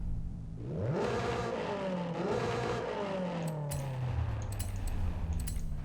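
A turbocharged Honda's engine revs repeatedly in a Forza Horizon drag build, its pitch climbing and falling in rising sweeps, with turbo whoosh and flutter and a few sharp clicks later on.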